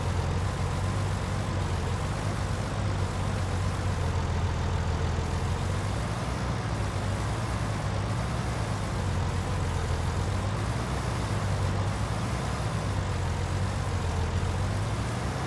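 A Case IH 1455 XL tractor in Farming Simulator 19 runs with a steady, low diesel drone, its engine tone rising and falling slightly as it works, with no talk over it.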